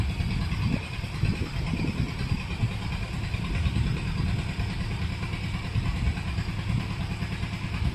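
A steady, loud farm water pump engine drones and chugs continuously nearby, a rough mechanical running sound with a clattering low rumble and no pauses.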